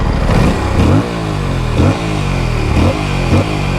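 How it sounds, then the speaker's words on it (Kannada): An all-new Aprilia Tuono 457 motorcycle engine revs up close in a steady run of loud throttle blips, each climbing and dropping back over a constant rumble, with no talk. "ಇವತ್ತು ನಮ್ಮ ಮುಂದೆ ಇದೆ ದಿ ಆಲ್ ನ್ಯೂ ಅಪ್ರಿಲಿಯಾ 210 457"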